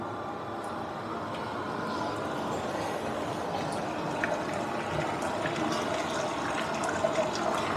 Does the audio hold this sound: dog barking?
no